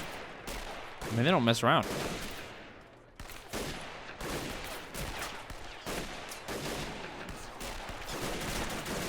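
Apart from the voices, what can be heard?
German machine gun and rifle fire in Men of War video game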